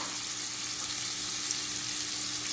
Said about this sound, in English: so the fillets in the pan, and we are cooking with olive oil